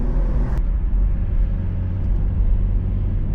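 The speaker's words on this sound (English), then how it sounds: "you can really nicely dose your pedal and enjoy this beautiful engine out" A Porsche 992.2 Cabriolet GTS T-Hybrid drives on the Großglockner Pass, its engine giving a close, steady low rumble throughout, with a short sharp click near the start and no talking.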